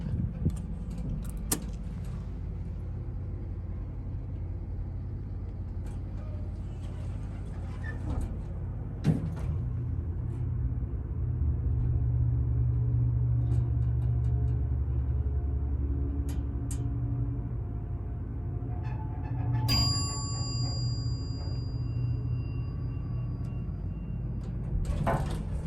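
A Dover traditional hydraulic elevator in a university veterinary science building, with doors sliding and the car running as a low steady hum. A bump sounds midway and a bright electronic ding comes near the end.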